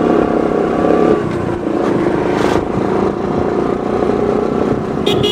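An auto rickshaw's small engine drones loudly and steadily nearby, a continuous buzzing rumble with slight changes in pitch and no talk.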